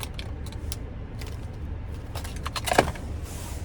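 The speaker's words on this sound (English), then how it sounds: "here's our key fob with remote start" Brief metallic jingles and clicks from the key fob of a 2025 Cadillac XT5 Luxury being handled inside the car, scattered taps with a brighter jangle burst near the end over a low cabin hum.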